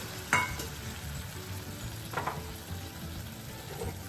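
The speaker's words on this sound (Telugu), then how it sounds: "ఇప్పుడు మూకుడులో నూనె వేసుకుని దాంట్లో అరటికాయలు" Boiled raw banana pieces fry in oil in a pan, giving a soft, steady sizzle. A few brief clinks of stirring or a utensil break through, and no one speaks.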